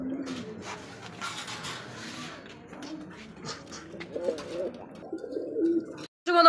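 A male Danish pigeon of Pakistani bloodline coos in low repeated throaty phrases at close range, with faint chatter in the background and a sharp bump at the end.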